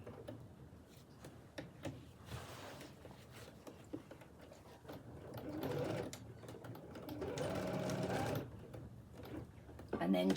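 A sewing machine back stitches the hem of an apron, its motor whirring and stuttering in short bursts that swell louder near the end, with a voice talking intermittently over it.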